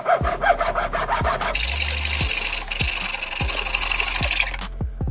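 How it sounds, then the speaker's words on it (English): Rhythmic back-and-forth strokes of a hand saw cut through wood for a homemade fishing rod handle, close and loud, with a raspy grinding that turns brighter midway before the cut finishes. "I'm gonna cut the wood right there"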